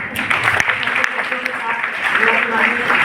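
Clapping from a congregation at a Church of North India Easter worship service, offered in honour of an aunt: steady, dense applause lasting throughout, with a voice speaking over it.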